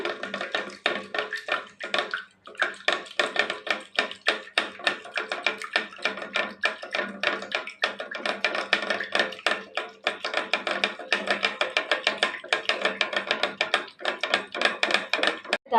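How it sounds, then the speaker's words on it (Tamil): A wooden churner clatters rapidly and steadily as curd is churned into buttermilk, a continuous rhythmic knocking that goes on without pause. "ஒரு மோர் கடையிற மத்து வச்சு நல்லா கடைஞ்சிக்கலாங்க"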